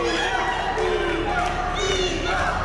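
A wrestling crowd chants the name of champion Bebop in rising, rhythmic shouts, many voices together in a loud, echoing arena din.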